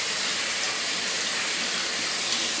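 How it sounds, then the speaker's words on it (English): Tomatoes washed under a running tap, a loud, steady rush of water close by, unbroken and with no talking. "So we'll just wash the tomatoes, a little shake"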